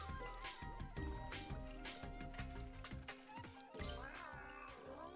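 A cat character in the LittleBigPlanet platformer level Murasaki Night gives several short meows over busy, loud game music with chimes and tones.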